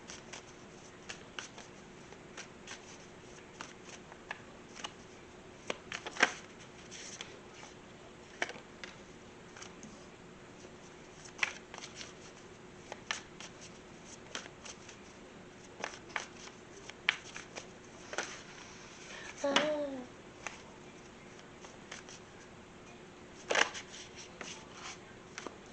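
Tarot cards being shuffled by hand, a sparse series of soft flicks, slides and light taps spread out over time, fairly quiet and close, with no speech.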